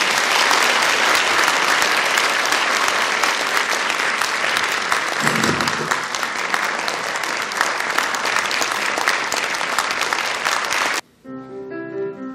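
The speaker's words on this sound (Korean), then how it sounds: "바리톤 정창경 교수님을 큰 박수로 모셔주십시오." A large audience applauds loudly and continuously to welcome a baritone singer onstage, the dense clapping sustained before cutting off abruptly near the end as a piano begins.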